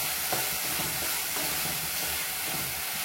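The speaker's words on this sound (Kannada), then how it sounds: "ಟೊಮೆಟೊ ಮೆತ್ತಗಾಗೋ ತನಕ ಇದನ್ನ ಚೆನ್ನಾಗಿ ಫ್ರೈ ಮಾಡ್ಕೋಬೇಕು" Tomatoes fry in a pan with a steady, loud sizzling hiss, with occasional scraping and clinking as they are stirred, and no talking.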